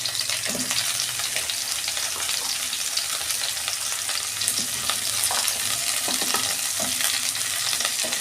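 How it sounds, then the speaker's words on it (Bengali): Bitter gourd pieces frying in hot oil for a vegetarian Bengali dish: a continuous loud sizzle and crackle with occasional stirring scrapes, close up, no talking. "এই তেল গরম হয়ে গেছে, উচ্ছেগুলো সব দিয়ে দিচ্ছি।"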